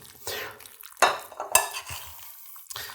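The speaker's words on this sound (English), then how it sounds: "give it a good stir" Orecchiette pasta being stirred through kale and parsley pesto in a pan, with a few distinct scraping, squelching strokes of a spoon against the pot, close and fairly clear, no talking.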